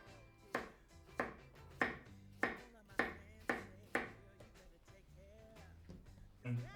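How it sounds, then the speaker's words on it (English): A knife slices a cucumber on a cutting board in a kitchen, about eight crisp, evenly spaced chops close up, then a quiet pause with a light clatter at the end. "Then we will cut a few slices of cucumber."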